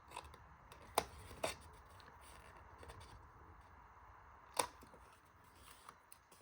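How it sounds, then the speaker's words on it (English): Scissors snipping through paper up to a fold line, with a few sharp distinct cuts standing out at quiet, close range. "I'm going to use just use the scissors, just cutting up to that fold line that we made"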